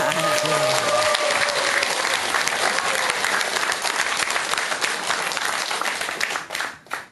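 Sustained applause from a large audience at a Buddhist dharma lecture hall, dense and loud for about seven seconds, with a few voices mixed in early before the clapping tapers off at the end.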